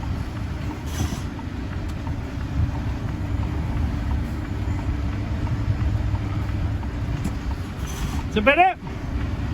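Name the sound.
vehicle engine revving while stuck in snow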